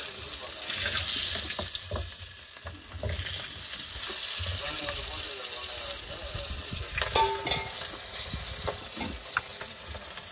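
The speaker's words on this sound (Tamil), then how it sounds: "நம்ம கஞ்சிக்கு வந்து முண்டக்கனி மீனை நம்ம பொரிக்கிறோம்" Munda kanni fish frying in oil seasoned only with turmeric powder, giving a steady sizzle with occasional stirring and scraping noises throughout, aboard a deep-sea hook-and-line fishing boat.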